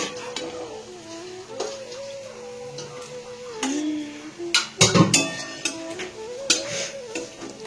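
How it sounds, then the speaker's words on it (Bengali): Cauliflower pakoras frying in a pan while being stirred, with a soft steady sizzle beneath repeated clinks and scrapes of a utensil against the pan, the clatter growing louder and busier midway. "আমি এখানে পকোড়া ভাজছি"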